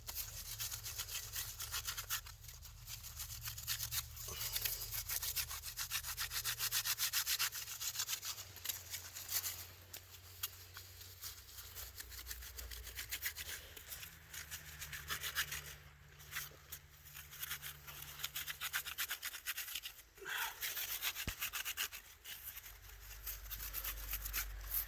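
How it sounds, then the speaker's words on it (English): A rake scrapes and breaks up dirt outdoors, giving faint, close, repeated gritty rubbing strokes with no voices. "Sometimes I gotta take it and rake it, almost like a cheese grater."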